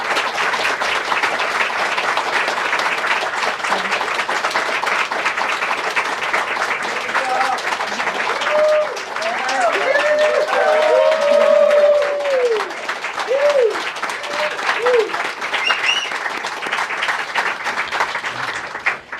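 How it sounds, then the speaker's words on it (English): A long, loud round of applause fills the White House press room, sustained clapping from a packed crowd with a few voices and whoops rising over it near the middle. "You have the largest round of applause I've ever heard in this room."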